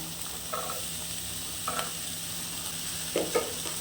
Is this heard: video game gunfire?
no